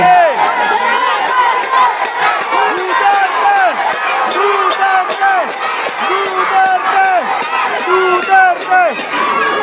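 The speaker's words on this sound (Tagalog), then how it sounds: "Ang sigaw ng mga tao ay Duterte!" A large crowd in Quiapo, Manila shouting and cheering "Duterte!" in a rhythmic chant, loud and continuous, with repeated rising calls over a dense roar.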